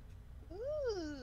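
A cat gives a single clear, rising-then-falling meow, fairly close and quiet, after a moment of near silence.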